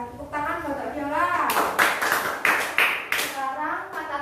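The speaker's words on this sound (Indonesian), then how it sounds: "Tepuk tangan buat Mbak Viola." A primary school class claps in a classroom, giving a series of sharp, fairly close claps in quick bursts in the second half. Before the clapping a teacher and children can be heard talking.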